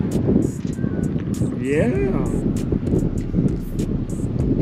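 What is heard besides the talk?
wind blowing on microphone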